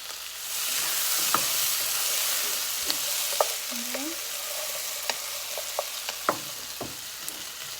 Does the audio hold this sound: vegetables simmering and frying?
yes